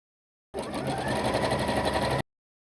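A sewing machine stitches bias binding into a strap on fabric for a camisole, one steady, close, continuous whir for under two seconds, starting and stopping abruptly, with no talking.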